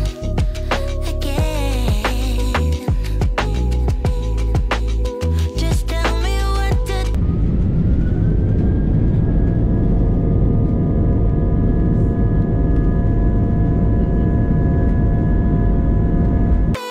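Inside the cabin of a Jetstar airliner during pushback, a low, steady engine rumble and broad roar fill the space; the first seven seconds carry a clattering, tonal mechanical sound before the even drone settles in.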